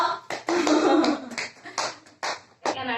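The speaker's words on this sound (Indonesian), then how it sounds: "Tepuk tangan semuanya." Students in a classroom clap in short bursts, a few quick rounds of hand claps separated by brief pauses, close and fairly loud, with no one speaking.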